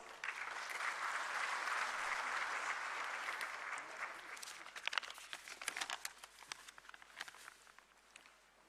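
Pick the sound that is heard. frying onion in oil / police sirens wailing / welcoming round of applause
welcoming round of applause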